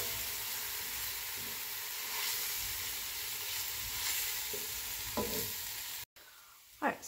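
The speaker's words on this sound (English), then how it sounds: "And just stir everything." Spices and onions sizzle and fry in a pot while being stirred, a steady close hiss with occasional scraping strokes and a brief gap near the end.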